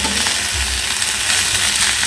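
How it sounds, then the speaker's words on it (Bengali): Shrimp heads fry in a pan, giving a dense, steady sizzle and crackle that runs close and loud for the whole stretch with no voices. "এইটা হচ্ছে চিংড়ি মাছের মাথা ভাজা"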